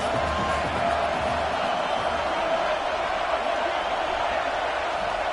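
Football stadium crowd roaring steadily during a game, a dense, sustained wash of distant cheering and noise with no break, fairly loud throughout.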